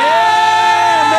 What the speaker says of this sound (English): can I get a big round of applause for Craig and Coco?